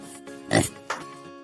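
A pig on a farm grunts and oinks, with two short, fairly close snorting bursts rising over a quiet background.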